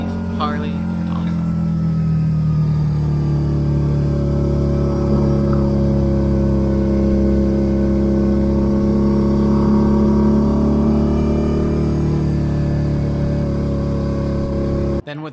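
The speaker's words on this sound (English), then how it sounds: "today, I had to ride this Harley" A Harley-Davidson motorcycle rides along with a steady, loud low engine drone and rising and falling tonal harmonics, continuous throughout under wind, cutting off at the very end.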